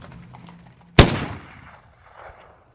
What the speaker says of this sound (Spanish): El estruendo de un disparo sobresalta al caballo que apura el paso hasta llegar a destino.